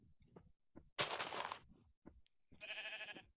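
Sheep in the Minecraft video game bleat in short bursts: a harsh noisy bleat, then a brighter wavering one after a few small clicks, all close and clear with no talk.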